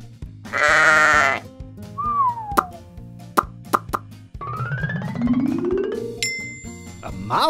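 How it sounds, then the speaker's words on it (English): A sheep gives one loud wavering bleat near the start, then cartoon plops, dings and sliding effects play over light background music. "A sheep!"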